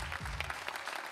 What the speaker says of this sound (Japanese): 大きな拍手と声援をお願いします